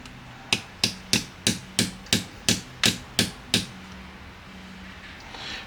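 A punch taps a part on an AAP FUKU2 airsoft lower receiver with about ten light, evenly paced metallic knocks in a row. They sound close and crisp, followed by quiet.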